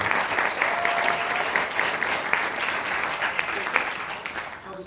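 At a science communication competition final, an audience claps steadily to welcome the judges, a full, even wash of many hands throughout with a few sharper claps standing out.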